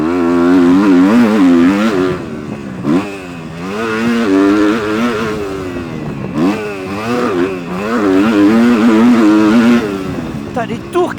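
A Kawasaki 250 KX motocross bike engine revs loudly, rising and falling in pitch through repeated throttle bursts, with a voice talking intermittently over it.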